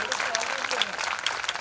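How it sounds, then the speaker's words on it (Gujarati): Audience applause welcoming two revered women guests arriving at a Gujarati religious yagna festival; steady, moderately loud clapping from a gathered crowd across the short stretch. "આપણે તાળીઓથી એમનું સ્વાગત કરીશું"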